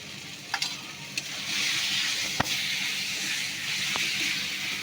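Green chili paste fries in a cooked spice mix for potol curry, giving a steady close sizzle punctuated by a few sharp clicks of stirring.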